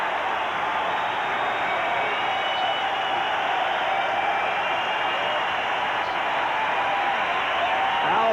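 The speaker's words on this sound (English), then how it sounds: "they're making sellout noises" Dense, steady roar of a baseball crowd cheering throughout a 1986 Red Sox game during Roger Clemens' 20-strikeout record, a broad wash of voices and applause with no breaks.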